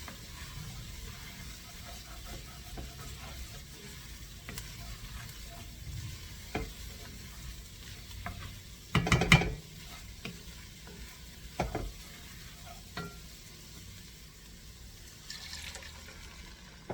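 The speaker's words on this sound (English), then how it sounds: "I want you to stir it around until you don't see the white anymore of the flour." Flour being stirred in a frying pan with fat: a soft continuous sizzle broken by scraping and knocking of the utensil, with a louder clatter near the middle, no talking.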